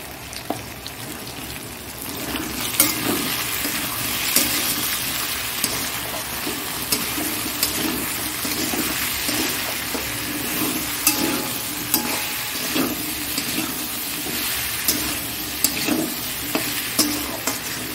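Taro pieces and prawns fry in a pan with salt and turmeric, a constant close sizzle broken by repeated scraping stirs, with no talking.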